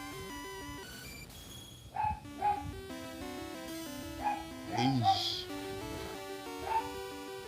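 A dog barks and yips in short bursts, several sharp woofs and a whimpering yelp, in the room behind a Pokémon Crystal game whose chiptune music plays, with a person speaking briefly.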